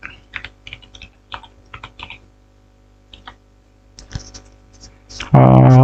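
Someone types ifconfig on a computer keyboard, a scatter of quick close key clicks in short bursts with pauses, ending in a louder burst of noise at the end.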